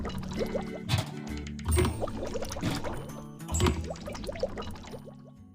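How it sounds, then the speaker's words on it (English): Engine fluid pours into tanks in a truck and car repair video game, a series of short liquid glugs and fills recurring every second or so, close and moderately loud. "Pour engine fluid by color into tanks."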